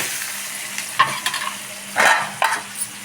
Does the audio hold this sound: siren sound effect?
no